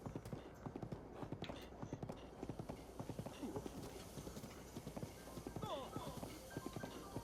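Horse hooves galloping at speed in The Legend of Zelda: Breath of the Wild, a steady rapid clip-clop rhythm running throughout under faint game ambience.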